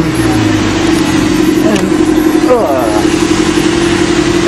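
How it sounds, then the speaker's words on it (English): Alfa Romeo 116 GTV engine idling in neutral, a steady low rumble running continuously throughout, close up, with someone talking over it. "It's definitely in neutral. It's idling."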